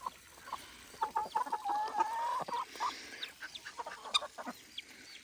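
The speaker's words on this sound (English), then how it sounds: "These are baby ducks." Half-grown baby ducks peep and chirp in a busy cluster outdoors, with thin high calls repeating close by over soft background noise and no talk.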